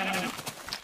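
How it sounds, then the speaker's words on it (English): A cow in the Minecraft video game gives a single short moo, a brief low bleating call that fades quickly, heard at moderate loudness in the background. "Got them cows in the background."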